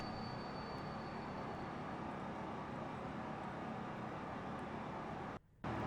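A steady, dense engine rumble from a simulated aircraft in Microsoft Flight Simulator X, droning evenly and closely before a brief drop-out near the end, with no talking.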